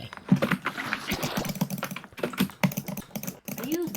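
Fast butterfly clicking on a mouse during a Minecraft survival multiplayer session, a dense run of rapid close clicks and clatter with occasional voices in the background.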